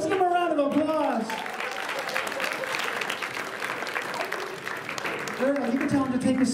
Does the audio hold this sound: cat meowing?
no